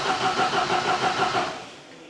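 A Cosworth engine cranks on a start attempt, the starter turning it over in a rapid, even chugging rhythm for over a second before winding down without catching, loud and close with no talking.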